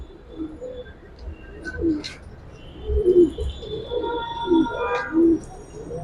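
Pigeons in a loft give soft, low cooing calls that repeat in an uneven rhythm, close by, with faint chirps and light background noise.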